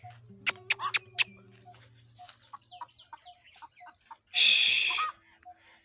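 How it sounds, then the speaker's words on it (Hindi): A hen clucks in short, chirpy bursts outdoors on a small rabbit farm near crop fields, mixed with sharp clicks and a brief loud rustle of movement nearby. "इस साइड पर घूम रही है हमारी वो मुर्गी।"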